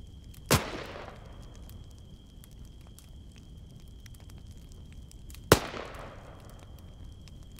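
Two sharp, loud gunshots in the video game Arma III, spaced about five seconds apart, each with a short decaying echo over a quiet background hum.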